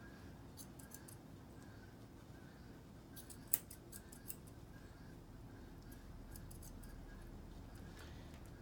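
Scissors snip in faint, scattered bursts while trimming a dog's coat around the ear pocket, with one sharper cut standing out in the middle over a steady low background hum.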